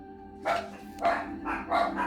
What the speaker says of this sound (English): I just got the dogs riled up.